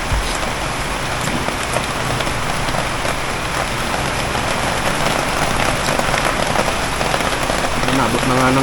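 Heavy storm rain pours down outdoors in a loud, steady, dense hiss of drops that holds throughout without a break.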